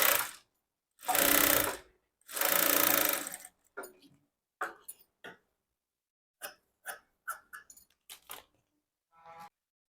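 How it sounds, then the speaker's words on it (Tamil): A sewing machine stitches a half-inch hem in a blouse lining in two fast bursts of whirring, then stops while a few short clicks and soft handling noises follow. "ஒரு அரை இன்ச்சில் தையல் போட்டு எடுத்துக்கலாம்."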